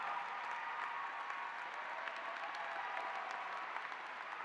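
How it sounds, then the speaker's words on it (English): Audience applause for a graduate at a university commencement ceremony: steady, dense clapping from a large crowd that holds at an even level throughout, fairly distant and with no voices over it. "please give them another round of applause"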